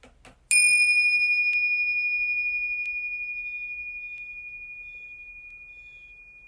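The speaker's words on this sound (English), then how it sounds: "Let's invite the bell to ring and listen." A meditation bell at a monastery is struck once, close to the listener, after a few faint taps, then rings out alone as a pure, steady tone that fades slowly over several seconds.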